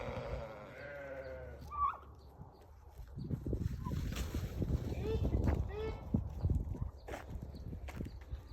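Scratchy footsteps and soft clucking from a group of chickens approaching nearby, with a person calling out over the scuffling.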